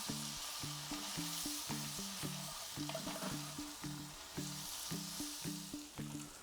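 Onions and peppers sizzling in a pan on a Kamado Joe Classic 2 grill, a steady close-up frying hiss with a rhythmic patterned tapping running through it.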